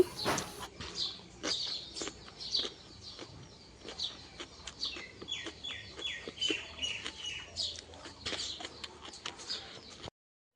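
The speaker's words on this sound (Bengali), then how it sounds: "তো পাখিগুলোর কিচিরমিচির আওয়াজও ভালো লাগছে" Many birds chirping at a house doorway, a busy run of short bright tweets and calls overlapping at moderate distance, steady and without speech.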